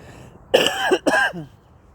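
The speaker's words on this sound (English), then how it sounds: "excuse me for coughing" A man coughs twice in quick succession, close and fairly loud, with short harsh throat-clearing bursts and silence around them, recorded outdoors in the wilderness.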